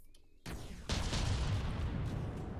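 A Prowler ship launching missiles in a video game: a quiet lead-in, then a sudden whooshing burst that swells into a sustained roaring rush, fairly loud and alone.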